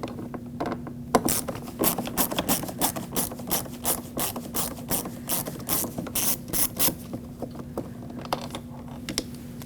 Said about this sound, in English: with a Phillips head screwdriver, remove that screw